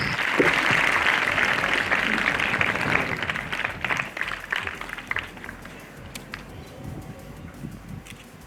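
An audience at a school investiture ceremony claps in sustained applause, loud at first and then gradually thinning out over several seconds.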